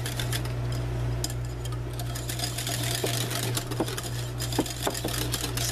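Creamy dressing for a lump crab pasta salad being beaten steadily, a continuous motor-like whir with faint clicking ticks running evenly throughout, fairly close and without talk.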